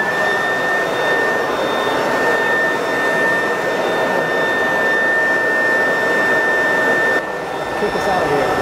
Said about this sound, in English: You gotta grab the leaf blower.